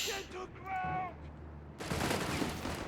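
Gunfire from infantry squads in Company of Heroes 3, a World War II strategy game: a dense burst of rattling shots erupts partway through and keeps going, following an earlier stretch with a tonal in-game voice or effect.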